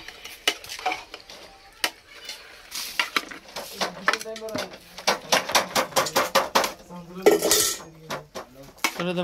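Chicken curry mixed in a metal pot at an outdoor forest cookout, with a ladle repeatedly scraping and clanking against the sides in irregular bursts, close and fairly loud, some faint voices in the background.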